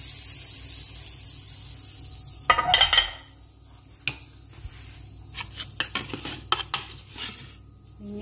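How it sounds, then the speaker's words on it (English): Chicken in a pan with milk and butter gives a low, even sizzle, then a brief splash as liquid goes in, followed by a run of light clinks and scrapes of a utensil stirring near the pan. "the milk and butter, we put it here"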